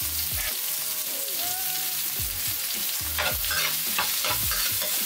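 Onion softens with garlic in a pan of turmeric chicken adobo, frying with a constant close crackle while a utensil repeatedly scrapes and stirs through it in uneven strokes; nobody speaks.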